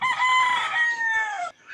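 A cockerel crows once in a full, loud cock-a-doodle-doo lasting well over a second, close by in a rural setting in the Philippines where dogs, sheep and goats are also kept.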